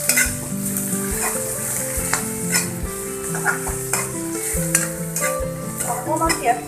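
Onions with garlic and chilli frying and being stirred in a pan for a catfish curry, a steady close sizzle broken by repeated scraping and clattering strokes of a utensil against the pan.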